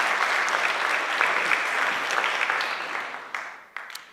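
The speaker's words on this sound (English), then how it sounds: "So give yourselves a round of applause for the work you put in." An audience applauds high school film students at a workshop, a dense and steady clapping that holds strong, then thins and fades with a few last claps near the end.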